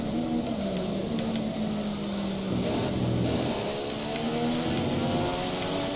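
A racing car engine in a rain-soaked video game race, a loud, sustained engine drone whose pitch rises and falls with gear changes and throttle, with no talking.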